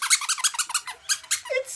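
A rubber cat-toy mouse squeaks again and again in quick, close bursts, roughly a dozen short high squeaks in an uneven rhythm with no talking.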